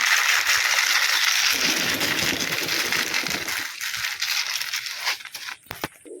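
Wheat grain pours into a pigeon feed bowl as a dense, continuous patter of hard little kernels, close and fairly quiet, thinning out into a few scattered clicks and taps at the end.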